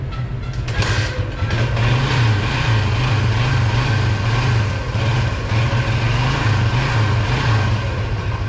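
Cold motorcycle engine, unrun for two or three days and started in sub-freezing weather, idles loudly and close by with an even, throbbing low pulse that lasts throughout.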